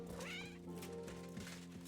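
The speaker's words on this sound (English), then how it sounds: "I think I stepped on the cat." A cat in Kingdom Come: Deliverance II lets out a drawn, wailing meow after being stepped on, heard faintly over a steady tonal game backdrop.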